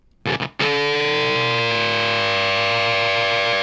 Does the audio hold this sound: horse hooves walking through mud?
no